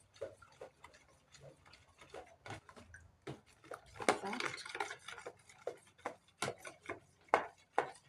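Pancake batter being mixed in a bowl, with irregular taps and scrapes of a utensil against the side that get louder and more vigorous toward the end, under quiet background sounds.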